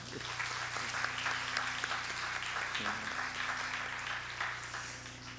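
At a Sunday worship service marking a church's 14th anniversary, the congregation gives a sustained round of applause, a dense, even clatter of many hands over a low steady hum in the hall.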